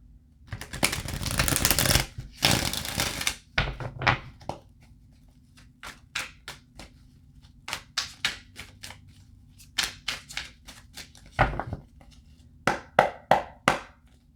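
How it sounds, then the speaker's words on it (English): Tarot cards being shuffled by hand at close range: a dense riffling burst in the first few seconds, then a long run of crisp, separate taps and snaps as the deck is cut and squared, loud and with no talk. "Let me shuffle these."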